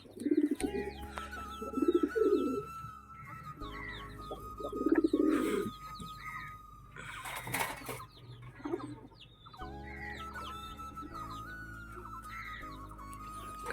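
Pigeons coo in soft, rolling low calls again and again, nearby, with a few clucking sounds and scattered bird chirps in between.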